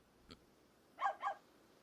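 A small iceberg pup in the video game Carto gives two quick yips close together, preceded by a faint short squeak, light and fairly quiet against a silent background.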